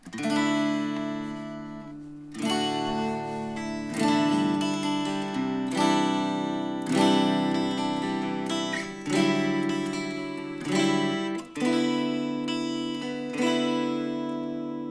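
Clean electric guitar chords from an Enya Nova Go Sonic on the middle pickup position, using both pickups, ring out one after another, each strummed and left to sustain, bright and close with no distortion.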